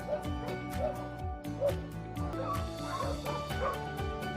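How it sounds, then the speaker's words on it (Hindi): Dogs yip and bark repeatedly inside a house that keeps thirty to forty dogs and their puppies, with short sharp barks mixed with whimpers and a few overlapping calls. "अब अगर कुछ देर तक घर में भौंकने की आवाज नहीं आती है तो घर वाले सोचते हैं कि आखिर बात क्या हो गई"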